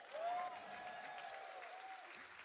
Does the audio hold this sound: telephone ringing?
no